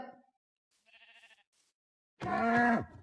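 In Minecraft, a sheep gives a short wavering bleat near the end, preceded by a faint fragment of another call and quiet gaps.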